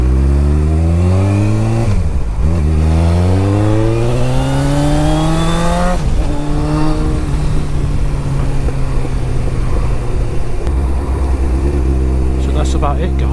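A Honda CBF 1000 motorcycle's exhaust roars loudly through repeated rising gear pulls, pitch climbing then dropping between shifts, before settling into a steady rumble.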